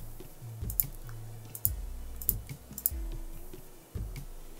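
Someone clicks a computer mouse repeatedly while working in Photoshop, sharp clicks arriving in an irregular run of about eight over a few seconds, close to the microphone and with no talk.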